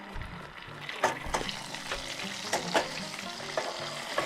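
Butter melting with garlic in a pan at a motorcycle campsite gives a steady close sizzle and frying crackle, with several sharp utensil clicks and scrapes at the pan throughout.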